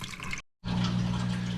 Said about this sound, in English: the flow is pretty weak just because it is going through this smaller diameter hose